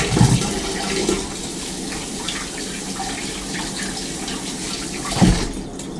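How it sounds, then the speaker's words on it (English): A tap runs steadily at close range while hands are washed under it. A clunk and splash come at the start, a soft continuous water stream follows, and another thud arrives near the end. "I'm gonna wash my hands."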